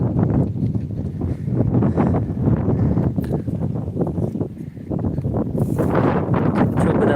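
Steady outdoor wind in the UK buffeting the microphone, a continuous loud rumbling rush with gusty fluctuations throughout.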